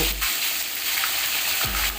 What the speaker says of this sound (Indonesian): Oke, kita lanjut goreng ikan.